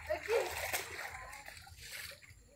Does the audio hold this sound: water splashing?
yes